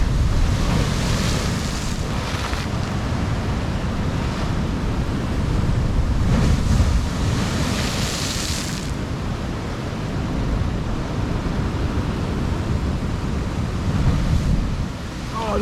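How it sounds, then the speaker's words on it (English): Big sea waves crash against the rocky coast near Positano, a loud continuous roar of surf with heavy wind buffeting the microphone and swelling surges throughout. "capture these beautiful waves smashing into the coast."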